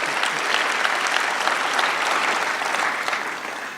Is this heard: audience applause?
yes